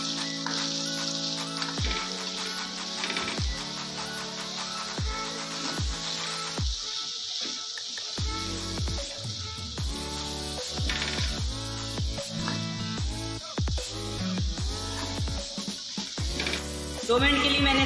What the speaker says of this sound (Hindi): दो मिनट के लिए मैंने सब्जियों को अच्छे तरीके से भून लिया।